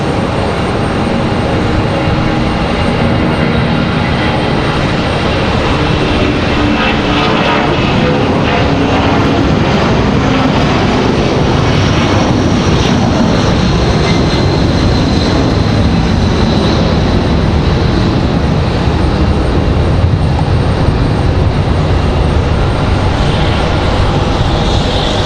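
A Boeing 757 jet departs Raleigh Durham airport with a loud, sustained engine roar that holds steady and close throughout, broad and rumbling with no voices over it.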